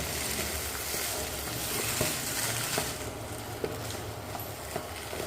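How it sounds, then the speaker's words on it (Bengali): Potato and cauliflower mixture being stirred in a pan for crispy cauliflower chops, a steady close sizzle with soft scraping strokes and occasional sharper clicks of the spoon, no talking. "আলু আর ফুলকপিটা দিয়ে ভালো করে নেড়ে মিশিয়ে নিলাম, পুরো মিক্স হয়ে গেছে"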